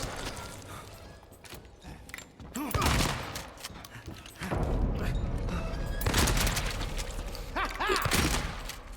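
Shotgun blasts boom in a Marvel Rivals match, several loud, punchy shots with mechanical clatter between them, alongside other gunfire in a busy game mix.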